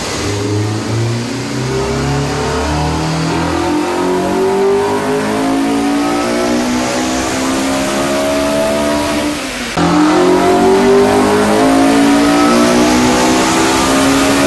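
Honda Type R engine with a ported and polished cylinder head revving on a dyno, a loud, steady climb in pitch through the gears with a brief dip near ten seconds before pulling hard again, no talk.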